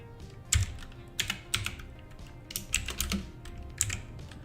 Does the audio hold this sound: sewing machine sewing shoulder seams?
no